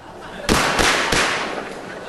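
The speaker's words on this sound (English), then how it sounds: "Soldiers shooting at reporters, Conan." Soldiers fire at reporters in Tripoli: three sharp, close gunshot cracks ring out in quick succession over a rough background wash.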